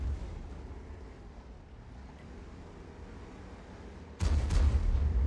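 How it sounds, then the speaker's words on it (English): A tank fires an artillery shell in World of Tanks: one sudden heavy boom near the end, rising out of a steady low engine rumble. "we're going to go for another shot on these tanks"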